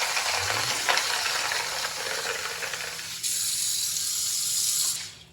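Tap water runs steadily into a kitchen sink to soak tamarind, a continuous close splashing rush that changes tone partway through as the flow lands differently, then cuts off near the end.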